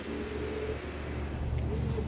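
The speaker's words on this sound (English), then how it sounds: "you should hear it engage. There goes the engine." Electric motor of a Wave folding e-bike engaging while pedaling, a steady low whirring drone with a faint rising whine, close and fairly quiet.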